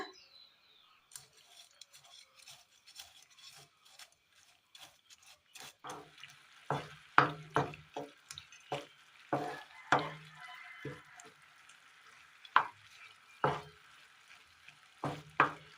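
Roasted vermicelli is stirred in a pan, starting quiet and then turning into a run of sharp scraping and clacking strokes of a spoon against metal, close and irregular.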